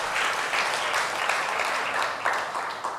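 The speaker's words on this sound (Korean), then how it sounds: "우리 특송해 주신 형제 자매님들께 큰 박수 부탁드리겠습니다" A church congregation at a Sunday service gives a loud, sustained round of applause, dense overlapping clapping that swells and ebbs slightly across a few seconds.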